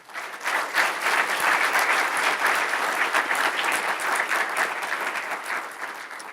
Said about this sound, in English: let's give a warm round of applause to Laura Thomas Bain